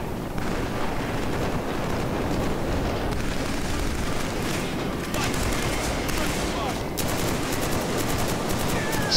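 Dense, continuous gunfire and explosions from the shooter game Killzone 3 roar loudly throughout, a constant battle wash with sharper bursts on top.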